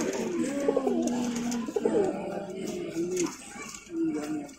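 Pigeons coo in deep, rolling phrases at a small pigeon farm in Dhaka, several birds close by and loud with repeated throaty calls throughout.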